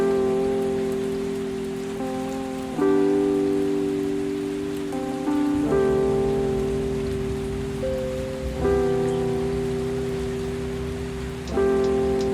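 Steady rain falls on a morning outdoors, a constant soft hiss of drops. Sustained musical tones that change pitch every few seconds play over it.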